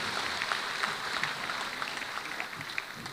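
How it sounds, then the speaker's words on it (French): A graduation ceremony audience gives minister Abdourahmane Diouf a standing ovation, the clapping soft and somewhat distant but dense and continuous throughout. "Merci de l'applaudir encore très très fort"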